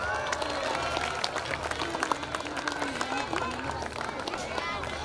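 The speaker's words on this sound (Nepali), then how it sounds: "ताली लगाउने सम्पूर्ण विद्यार्थी भाइहरु तालीमा कन्नस गर्नु" Students applaud at a school annual function in Bharatpur, a dense burst of many hands clapping while a voice speaks over a public address.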